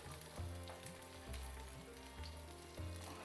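Chicken mince cutlets fry in a hot pan with a constant close sizzle and crackle, and occasional soft bursts as the fat spatters.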